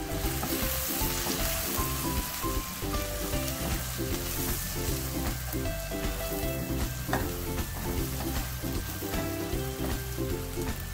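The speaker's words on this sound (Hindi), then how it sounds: "इन तमाम मसालों को अच्छी तरह भून लेंगे" Spices with green chilli and red chilli powder for a masala egg bhurji fry loudly in a pan, giving a dense, constant crackling sizzle that runs unbroken throughout, with stirring underneath.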